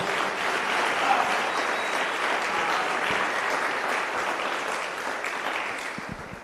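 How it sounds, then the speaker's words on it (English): Audience applause at a pitching masterclass, a dense, steady wash of many hands clapping that holds fairly loud and even for the whole stretch, tapering only slightly near the end. "I think we can give her one more round of applause"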